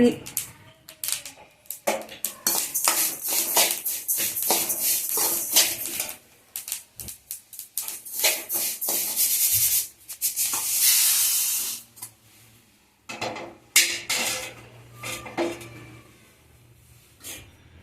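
Roasted black sesame seeds for a Tamil sesame sweet tipped from a pan into a vessel, a close, bright, sandy rattling hiss coming in bursts and scrapes, with a voice talking intermittently alongside.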